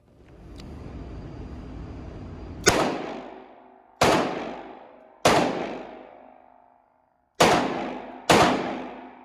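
A Charter Arms Pit Bull revolver fires five loud, sharp shots at a shooting range, each crack followed by a long ringing decay, spaced unevenly over several seconds with no talking.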